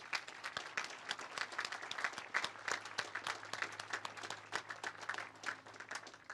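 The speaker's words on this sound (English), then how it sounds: "So another round of applause for our Gold Star families." Outdoor applause at a veterans memorial rededication honoring Gold Star families, a crowd clapping steadily at a distance, faint but continuous.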